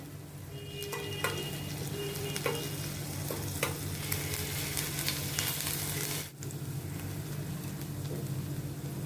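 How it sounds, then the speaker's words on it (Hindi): Ginger-garlic paste sizzles and fries steadily in a hot pan with occasional scraping stirs, a continuous crackling hiss up close and no talking. "इसमें मैं ये 1 टीस्पून अदरक लहसुन का मैं पेस्ट डालती हूँ। इसको अभी मैं थोड़ा सौते करती हूँ"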